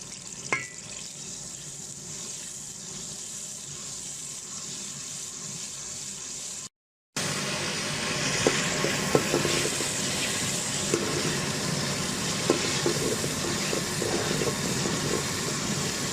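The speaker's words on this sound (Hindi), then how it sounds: "तो अभी घी गर्म हो गया और इसके अंदर हमने प्याज डाल" Onions sizzling in hot ghee for a chicken matar keema, a steady broadband frying hiss throughout with a brief cut near the middle, no talk over it.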